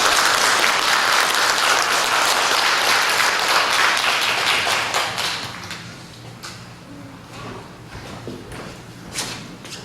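Loud, dense audience applause welcoming a lecturer at a talk, sustained for several seconds and then thinning into scattered claps and faint shuffling as it dies away.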